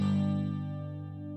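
Acoustic guitar strumming an E-shape major barre chord once, a single bright strum that rings out and slowly fades, quiet and alone.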